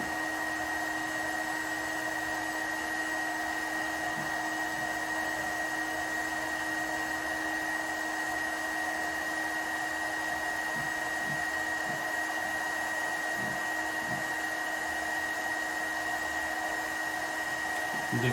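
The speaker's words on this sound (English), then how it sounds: "So just rotate the bottle around, the heat gun right on the score." A heat gun blows hot air steadily onto the scored line of a wine bottle being rotated, a constant loud whirring roar with a steady pitched whine and faint clicks of handling.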